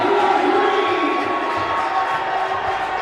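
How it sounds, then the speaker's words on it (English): Bleacher crowd at a men's college basketball game cheering steadily and loudly, a dense sustained roar of many voices with no pauses across the whole stretch. "So bleachers cheer him on."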